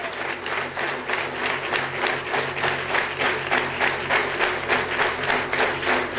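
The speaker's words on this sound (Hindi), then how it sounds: "एक बार जोरदार ताली।" A large audience at a Safe Shop direct-selling meeting claps loudly in a strong, steady rhythm. The synchronized pulses repeat evenly over a low electrical hum.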